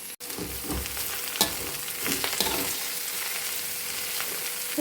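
Ingredients for a jackfruit dish roast in a hot pan, sizzling steadily, while a spoon stirs them with a few scraping knocks. No one speaks.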